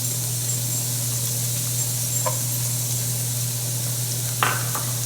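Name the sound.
chopped onions sizzling in olive oil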